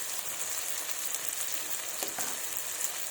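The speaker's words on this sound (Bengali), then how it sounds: "টমেটোর লালটা অংশটা, তো এটা আমি দিয়ে দিলাম। ভালো করে ভেজে নিচ্ছি।" Tomato pieces frying in a pan for a moong dal with fish head, giving a loud steady sizzle with a brighter hiss on top and no talking.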